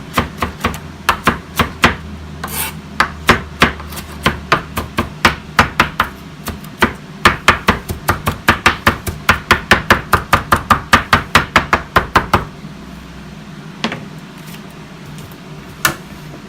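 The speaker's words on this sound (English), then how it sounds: "Okay, so I'm just chopping up this cilantro." Knife chopping fresh cilantro on a board, a fast, steady run of sharp close taps that speeds into dense rhythmic bursts, then slows to a few scattered strokes near the end.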